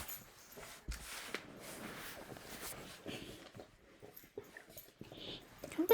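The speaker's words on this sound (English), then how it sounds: "Let me just check my 5 dogs on the bed here." Five dogs shift about on a bed, with soft whimpers, snorts and pants among rustling movement over six seconds, close and fairly quiet, without talk.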